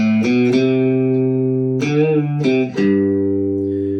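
Clean guitar notes are plucked and bent upward in pitch, a few bends in a row, each ringing out and sustaining clearly.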